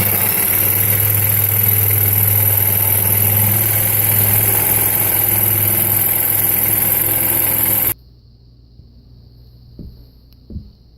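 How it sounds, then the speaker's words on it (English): A jigsaw running at low speed cuts the top off a plastic 55-gallon drum, giving a loud, steady buzzing drone for about eight seconds before it stops abruptly and leaves near-quiet. "I'm using a jigsaw set at low speed so it does not melt the plastic on the blade"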